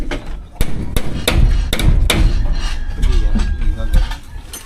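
Several sharp hammer blows with a metal hammer land at irregular intervals, close and loud, over a busy background with some nearby talk.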